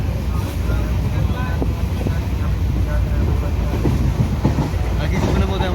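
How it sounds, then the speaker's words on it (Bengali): The Kanchan Kanya Express runs near Dakshineswar with a continuous loud rumble, wind buffeting and rhythmic clatter of the carriages, heard from inside the moving train. "ভালোই টান আছে ট্রেনে বাবা।"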